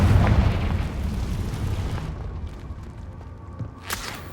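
The Confringo explosion spell goes off in the video game Hogwarts Legacy, a loud booming blast at the start that rumbles and fades away, with a brief crackle near the end.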